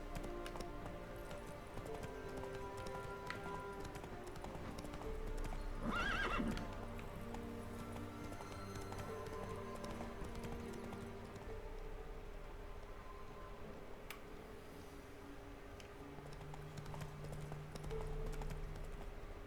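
Roach, the horse in The Witcher 3, clops along with repeated hoofbeats and lets out a clear whinny midway, over low game music and ambience.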